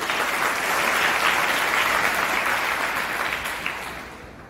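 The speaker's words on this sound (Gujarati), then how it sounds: "આપણે બંને વિચિત્ર દીકરીઓને બિરદાવવા ફરી એકવાર એમના માટે તાળી પાડીશું" Applause for two schoolgirls after a patriotic song at a school prize-giving: a room full of people clapping steadily and loudly, tapering off near the end.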